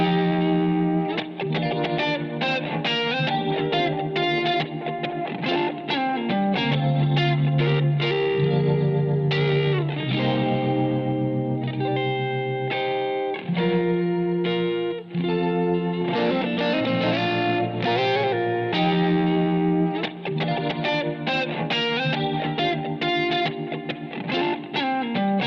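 An electric guitar mix on a Behringer Wing console plays with long delay and reverb, being equalized. Sustained chords and picked notes ring out with trailing echoes, loud and dense for the whole stretch.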